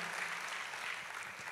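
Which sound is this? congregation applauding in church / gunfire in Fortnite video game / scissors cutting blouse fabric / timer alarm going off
congregation applauding in church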